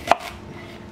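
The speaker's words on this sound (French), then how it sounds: "On va éplucher les échalotes et émincer" A single sharp knife chop through shallots on a board while preparing pickles, one crisp close cut followed by a brief softer scrape.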